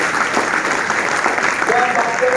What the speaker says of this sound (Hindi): तो आप लोग के लिए जोरदार ताली